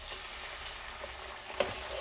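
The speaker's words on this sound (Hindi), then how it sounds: "अब मैं इसमें अदरक लहसुन डाल दूंगी, साथ ही इसमें टमाटर डाल दूंगी" Ginger, garlic and tomato hit hot oil with browned onions for a palak methi gosht, a steady close sizzle and crackle with a few faint stirring knocks.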